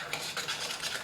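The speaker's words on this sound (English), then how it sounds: "Beat until the mixture is light" A whisk beats magdalena batter in a bowl, producing quick, faint, repeated scraping and clinking strokes in an even rhythm, with no talking.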